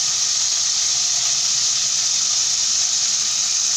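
A steady, loud hiss of food frying in hot oil while preparing chtitha lham, a meat dish, with an even sizzling texture that holds without break throughout, with no talk over it.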